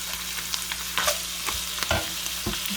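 Ground meat sizzles and crackles in a skillet on low heat, with scattered scraping stirs and a few louder pops over a steady frying hiss.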